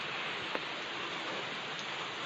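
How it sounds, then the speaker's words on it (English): A slow, light rain falls as a steady, soft hiss of drops with no clear rhythm, continuing evenly throughout. "so it's a slow rain again"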